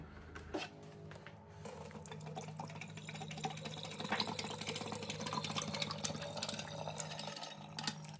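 Frizzlife WB99-C reverse osmosis water filter running a batch, with a steady run of water flowing and trickling over a faint mechanical hum, close and continuous.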